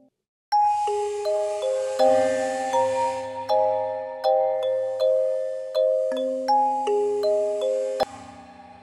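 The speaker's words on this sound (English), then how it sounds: "let's bring back Gong Amp on the kalimba without the pillow." Kalimba run through an AudioThings Gong Amp plugin without a pillow, playing a slow, bright melody of ringing, bell-like plucked notes with long metallic sustain that decay one after another.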